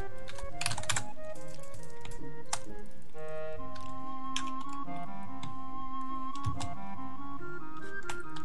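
Rapid, irregular clicks of a computer keyboard during a Minecraft UHC pre-game, close and crisp, with bursts of keystrokes mixed with steady tonal game sounds.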